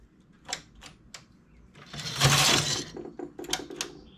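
Knitting machine carriage sliding over the needles while a bustier is knitted: close, sharp clicks and clatters, then a longer rattling sweep, followed by more clicks, with no talking.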